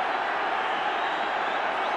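Dense, steady roar of a home football crowd at Everton urging their team forward in a European Cup Winners' Cup semi-final against Bayern Munich, a broad continuous wall of cheering with no gaps.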